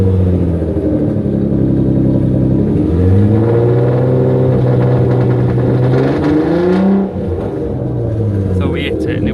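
A car engine revving hard during a decibel test at Donington track limits around 3000 RPM, loud sustained rising and falling engine tones close by, with a drop in level near the end and a voice speaking over it.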